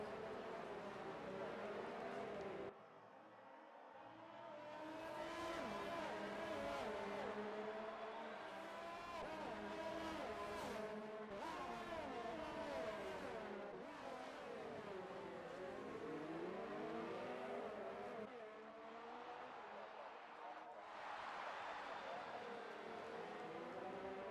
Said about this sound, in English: Look at how close these cars are moving through this straight section here.